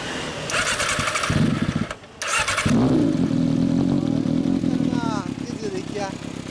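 A 1999 Yamaha XJR400 motorcycle fitted with a cheap aftermarket exhaust muffler starts up close by and revs, its loud rough idle breaking briefly before it settles into a steady burble, with voices talking over it near the end.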